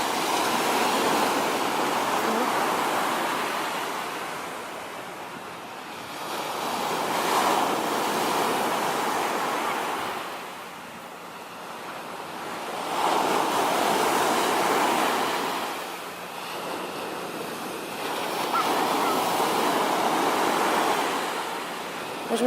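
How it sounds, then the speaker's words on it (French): Ocean waves break on the beach at Porto, swelling and fading in slow, regular surges every five seconds or so. The wash is loud and close, with steady wind noise over it. "J'adore ce bruit de l'océan."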